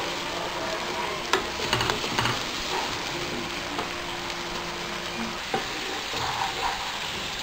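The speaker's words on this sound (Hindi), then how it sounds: "प्याज को हल्का सा भून लेंगे" Onions lightly frying in a pan for an Indian potato dish, giving a steady, moderate sizzle with occasional stirring scrapes and clatters close by, and no voices.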